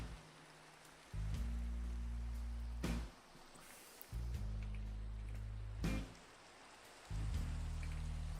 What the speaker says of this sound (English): Is this regular rain? Regular rain.